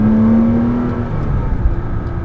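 A Chevrolet Corvette Grand Sport drives past with a steady engine drone that fades slightly, heard from close by as the roar settles into a lower rumble.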